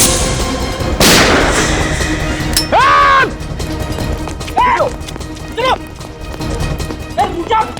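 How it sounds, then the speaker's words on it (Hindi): A single sharp gunshot cracks out early in a Hindi crime drama scene from CID, followed by a dull rumbling background under several short spoken voices. "ये समझ में नहीं आ रहा है, फायर कहाँ से हो रहा है?"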